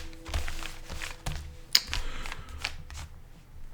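A deck of cards is shuffled by hand at close range for a tarot-style reading, with a run of quick riffling bursts, soft taps and flutters and one sharper snap midway, and no talking.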